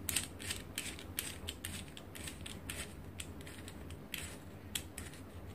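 Spring-loaded ratchet of a T-handle hand tap wrench being turned and unscrewed: a close, rapid series of light mechanical clicks and creaks at an uneven rhythm, with no talking.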